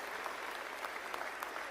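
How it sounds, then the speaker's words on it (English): A crowd at a Canada First political rally in Hamilton applauds, a steady, dense wash of clapping that holds at even loudness throughout with no pauses. "Give him a big round of applause for the anti-woke general."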